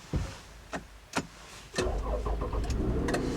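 A few clicks and a thump, then the V6 engine of a 2010 Toyota RAV4 Limited turns over from push-button start and settles into a steady low idle close by.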